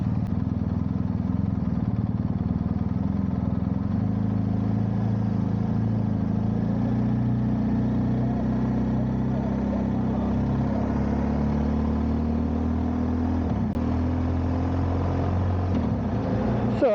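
A motorcycle carrying a pillion passenger through Tewkesbury, with a continuous low engine drone and steady road and wind rumble, loud and close, with no audible talk.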